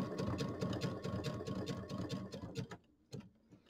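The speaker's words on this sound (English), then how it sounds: "just stitching along the edge of the binding" A sewing machine stitching along the edge of a mini quilt's binding runs in a fast, steady rhythmic chatter up close, then stops, leaving a few soft clicks.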